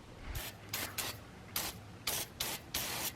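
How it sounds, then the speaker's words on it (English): Several short hissing bursts of penetrating lubricant sprayed onto bolts, close by, in an irregular series of quick puffs with brief pauses between them. "So we're gonna go ahead and spray some of this stuff on there,"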